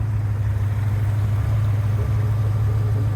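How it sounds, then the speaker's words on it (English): A 1990 Corvette ZR1 with its LT5 engine and one-piece Fidanza aluminum flywheel idles nearby, a steady low rumble with a constant hum and no speech. "the noise that you hear is this one-piece Fidanza aluminum flywheel"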